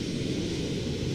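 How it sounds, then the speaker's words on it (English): Steady roar of a jet engine at takeoff thrust in the Arma 3 military game, a constant broadband rush with a deep rumbling low end, loud and unchanging throughout the short stretch with no voices. "start the engine, give it a little thrust."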